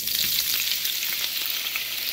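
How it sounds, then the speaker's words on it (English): Peeled, diced russet potatoes fry in smoking-hot bacon grease in a warm cast iron pan, a loud, steady, close sizzle with no talking. "I'm starting out with some bacon grease that is starting to smoke, so I'm going to put my potatoes in"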